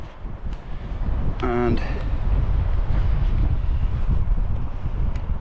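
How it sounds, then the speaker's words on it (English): Heavy low rumbling wind buffets a GoPro Hero12 microphone at a windy tidal shore, steady and loud throughout, with a brief spoken word and a short tonal squeal early on. "Oh yeah, it's windy now. You can hear that."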